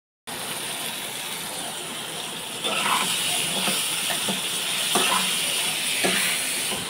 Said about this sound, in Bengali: মাছগুলোকে ভালো করে ভেজে নিচ্ছি।